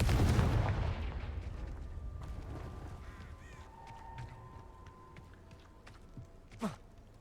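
In the Hogwarts Legacy video game, a Confringo spell lets off a loud explosive blast that rumbles and fades over a few seconds. Scattered small effects follow, then a short, sharp whooshing burst near the end.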